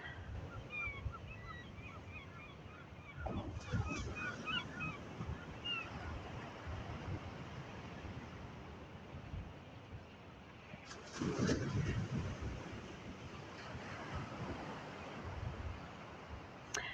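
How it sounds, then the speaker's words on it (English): Ocean waves wash onto a beach at Ocean City, Maryland, a continuous surf roar with wind noise and two louder breaking swells, distant birds calling faintly early on, and no talk over it. "I'm going to be quiet so you can hear those waves"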